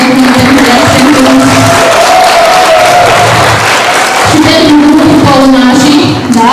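Audience at a local council meeting in Poduri gives sustained, loud applause that fills the room, with a few voices and a cheer rising over the clapping near the end.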